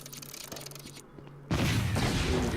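A rocket launcher explosion in the Lego Indiana Jones video game bursts in loudly halfway through, a sudden broad blast that stays loud to the end after quieter game noise.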